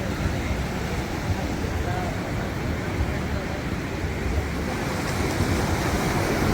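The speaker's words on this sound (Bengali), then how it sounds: "ঢেউর শব্দ কি সুন্দর" Sea waves wash continuously onto the beach at Laboni Point, Cox's Bazar, one evening, a broad steady surf roar with some wind, and faint voices in the background.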